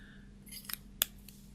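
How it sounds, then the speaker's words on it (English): Scissors cutting off the tied ends while making a small Santa gift bag with a candy cane: a few quick, crisp snips close by, alone over a faint background hum. "I'm just going to tie those, cut those off"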